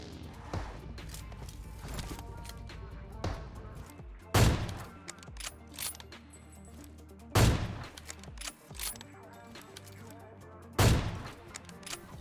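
Players in the PUBG battle royale game trade gunfire, with bursts of rapid shots and three loud, booming single blasts spaced a few seconds apart, over a busy game soundscape.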